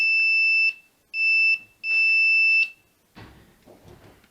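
Continuity-test buzzer of a Pro'sKit MT-2017N analog multimeter gives three steady high-pitched electronic beeps, the second short, then faint handling noises follow; close, loud and clean.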